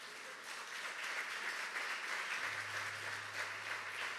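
A church congregation applauding during a sermon, a steady, moderately distant wash of clapping that carries on evenly with no voices on top, and a low hum joins partway through.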